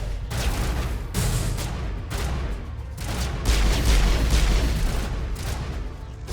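Gunfire from the video game Mass Effect Legendary Edition, with repeated loud bursts of shots and deep booming impacts that follow one another over several seconds, with no voice over them.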